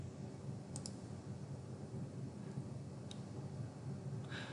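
Mouse clicks on a software drop-down menu: a few soft, isolated clicks spaced across quiet room tone, with no talking.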